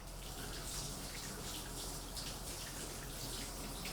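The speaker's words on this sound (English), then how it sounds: "I'm just going to wash my unwaxed lemon." Tap water runs steadily over an unwaxed lemon being washed under a kitchen faucet, a constant soft splashing rush lasting throughout with no talking.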